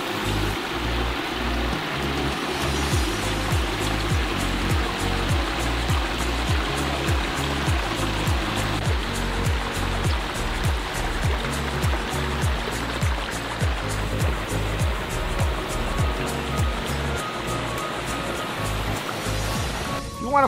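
A garden pond waterfall water feature, with the water spread out over a wide lip, pours steadily and loudly in a continuous close splashing rush with no pauses.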